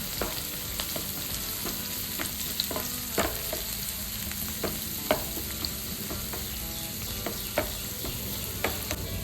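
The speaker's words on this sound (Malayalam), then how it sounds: "ഇതിലേക്ക് നമ്മൾ ഉള്ളി ഇട്ടിട്ടോ, ഉള്ളിട്ട് വഴറ്റാം" Onions sautéing in a pan for a home-cooked lunch, a steady sizzle broken by sharp spatula taps and scrapes at irregular intervals, close and clear with no talking.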